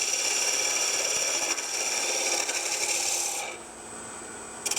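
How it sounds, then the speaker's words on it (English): A spindle gouge cutting a spinning wooden ball on a lathe for a bowling game gives a steady, close, hissing rasp of wood shaving over the motor's hum, easing off near the end with no talk. "I will now take the spindle gouge again, and I'm going to turn this off"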